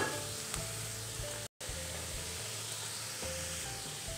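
Onion, carrot, cabbage and capsicum sizzle in a hot pan for veg momo filling, a steady close frying hiss with soft stirring scrapes and a brief dropout partway through.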